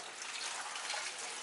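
Water emptied into a pottery glaze bag, a soft steady pouring wash that stays faint and continuous throughout, with no voices.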